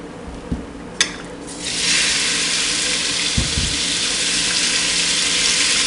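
Beef for stir fry, top sirloin, dropped into about two tablespoons of hot olive oil in a pot for beef stroganoff, bursting into a loud, steady sizzle after a couple of small clanks.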